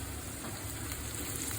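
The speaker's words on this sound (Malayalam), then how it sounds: "ഇനി അടുത്തത് വേപ്പില ഇടണം" Curry leaves crackle and sizzle in hot oil for a karimeen fish moly, a steady dense frying hiss running evenly throughout with no voice.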